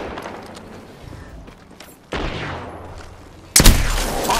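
Gunfire rattles in an Apex Legends firefight, starting as distant scattered shots and then breaking into sudden loud close bursts, the last one the sharpest and most intense.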